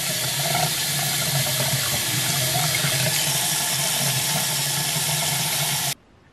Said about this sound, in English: I'm going to rinse all of that off. And of course, I don't want any residue of the soap.